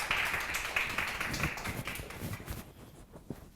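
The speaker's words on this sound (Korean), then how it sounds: "여러분 박수 한번." A small audience at a university history hall talk concert gives a quiet round of clapping that thins out and fades toward the end.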